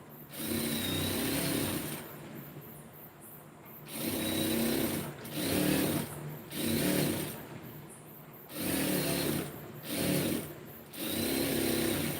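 A sewing machine stitches a blouse lining in repeated bursts of a few seconds each, a close, steady whirring hum that stops and starts several times, with no talking.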